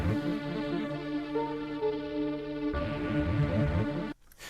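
A bright synth arpeggio plays in a low register, repeating notes cycling steadily, loud and alone, then cuts off abruptly near the end.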